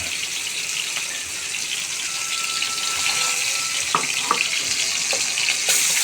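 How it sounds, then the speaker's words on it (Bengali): Broiler chicken pieces dropped one by one into hot oil in a wok give a steady, loud sizzle and crackle, rising as more pieces go in, with a few sharper pops and spatters near the end. "তেলটা গরম হয়ে আসছে, দিয়ে দিচ্ছি মুরগিটা।"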